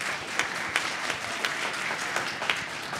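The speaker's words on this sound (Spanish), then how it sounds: "How about an aplauso?" Applause at a First Communion ceremony, a room of people clapping steadily and evenly for a few seconds, moderate and continuous, no talking over it.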